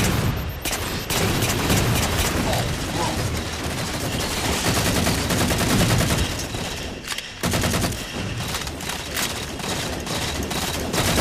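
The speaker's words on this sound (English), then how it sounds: "There's a weapon I don't use very often, the Magnum." Magnum pistol fire in a Halo 4 Oddball match, shots repeating over a dense, loud mix of other weapons and explosions that continues without a break.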